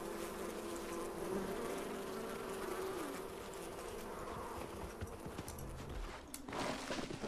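A continuous, fairly close drone of bees in the prehistoric wilderness of Far Cry Primal, holding steady with no one speaking, with a short shuffle near the end.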